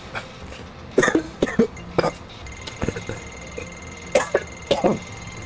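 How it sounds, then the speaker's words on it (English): A person coughs several times in short, sharp bursts spread across a few seconds, close and fairly loud over quiet background game sound. "I had a cough there for a moment"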